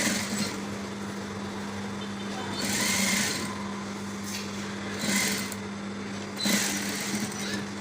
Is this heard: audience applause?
no